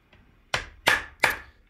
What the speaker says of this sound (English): Here we're setting the copper rivets.